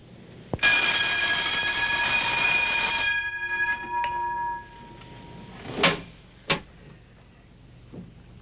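A muffled alarm bell sounds close by during a test, a steady ringing tone lasting about two and a half seconds that cuts off abruptly, followed by a few sharp clicks and knocks from handling.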